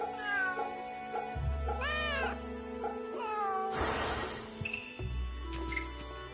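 Cats meow repeatedly in the Fate/Samurai Remnant video game, with rising and falling calls over steady game ambience and a burst of noise midway. There is no talk.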